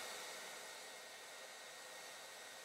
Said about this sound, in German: müsstet ihr hören, wie der Föhn zumindest die Lautstärke etwas reduziert, weil natürlich die Voltzahl runtergeht